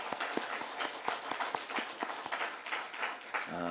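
Church congregation applauding during a worship service, a moderately quiet burst of scattered, uneven clapping from a crowd lasting a few seconds, ending as a voice begins to speak.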